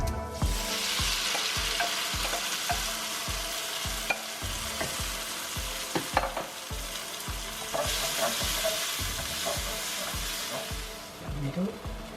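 Tomato fries in a pan with a loud, steady sizzle and hiss, while a spatula scrapes and stirs in a regular rhythm throughout, close by, with no voices.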